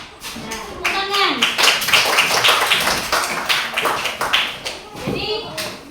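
Children clap together in a classroom, a quick patter of hand claps in several bursts under a teacher's speech and kids' voices.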